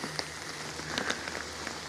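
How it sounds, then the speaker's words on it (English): Light rain falls outdoors at an abandoned concrete city, a soft, steady patter with scattered faint drips close by and no voices. "It's a little rainy out today,"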